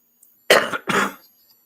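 Two harsh, close coughs in quick succession, each short and forceful, with near silence before and after.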